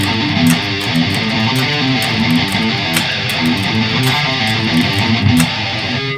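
Loud, tight chugging of distorted electric guitar power chords, palm-muted into a rapid rhythmic pattern that continues steadily throughout.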